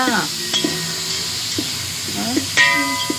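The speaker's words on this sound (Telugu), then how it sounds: "ఉల్లిగడ్డలు బాగా కొంచెం మగ్గనిద్దాము" Chopped onions sautéing in a pan for tomato rice give a steady close sizzle and hiss, with occasional scraping stir strokes and a soft voice talking over it.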